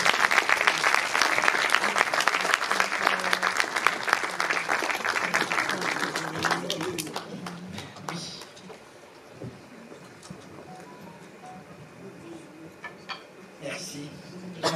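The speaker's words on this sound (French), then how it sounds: "Oui, applaudissez-la" Audience applause at a Congolese diaspora women's honouring ceremony in Belgium, loud dense clapping for about seven seconds that thins into scattered claps and faint voices, with a few sharp claps near the end.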